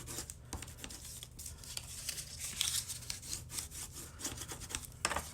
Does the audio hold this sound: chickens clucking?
no